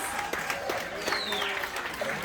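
Audience on the Liberty of the Seas cruise ship claps after a bingo game, a few short bursts of applause from a modest crowd with voices mixed in.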